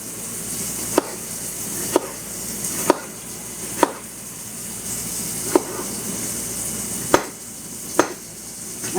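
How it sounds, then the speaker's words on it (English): A knife chops food into little pieces on a board during home cooking of serrano peppers, onions and tomato, with sharp single strikes spaced about a second apart, close and distinct over a steady background hiss. "So you just cut in little pieces."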